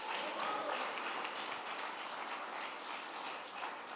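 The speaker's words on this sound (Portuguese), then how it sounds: "Dê as palmas para o Senhor" A church congregation claps during a sermon, producing a dense, sustained wash of applause from many hands at moderate distance, with no distinct individual claps.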